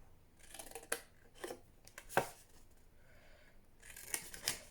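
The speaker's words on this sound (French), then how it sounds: "Je vais venir couper ça également." Scissors snipping through a cardboard box: a series of crisp, close cuts in irregular strokes with pauses between, ending in a faster flurry of snips, with no talking.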